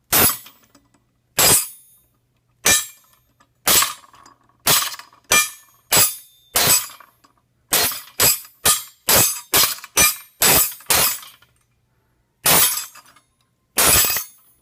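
Percussion instruments with objects piled on them so they rattle against their rails, struck in sharp, loud, clanging hits with a metallic foundry-like quality, first spaced apart and then in quick bursts, with brief decays and no talking.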